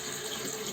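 Tap water runs steadily into a sink being filled, a constant close rushing hiss with no talk over it.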